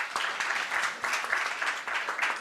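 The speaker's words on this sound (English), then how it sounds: "Kindly give her a better applause." An audience at a county government quarterly review meeting claps in a dense, steady burst of applause, close and fairly loud, with individual claps pulsing through throughout.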